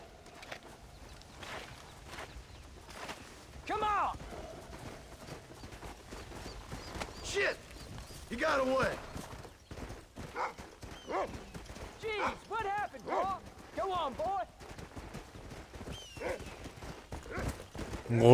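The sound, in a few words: horse galloping in the video game Red Dead Redemption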